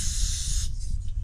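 Gas hisses from a camping stove canister valve as it is screwed on, a steady close, broad hiss that cuts off sharply partway through, leaving low rumbling noise behind.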